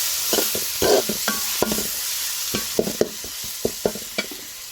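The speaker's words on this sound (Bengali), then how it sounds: "নেড়ে দিচ্ছি।" Garlic and ginger paste sizzles in a frying pan for a prawn bhuna, stirred with repeated close scraping strokes over a steady frying hiss.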